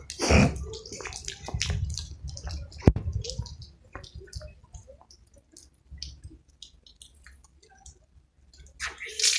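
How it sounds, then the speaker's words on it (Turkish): Water begins to flow and splash at a historic Ottoman fountain near Topkapı Palace and Sultanahmet in Istanbul, running again after 86 years, with intermittent gushes, drips and clicks amid nearby voices. "86 yıl sonra çeşmemiz akmaya başlamıştır."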